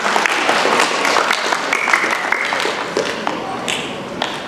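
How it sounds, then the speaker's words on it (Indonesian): Applause from parents and guests for the teachers at an Islamic primary school's tahfiz and year-end graduation ceremony in Palembang, a dense steady patter of clapping filling the hall with a few sharper claps standing out. "Kasih tepuk tangan dulu buat tim guru SD Islam Al-Azhar 45 Palembang"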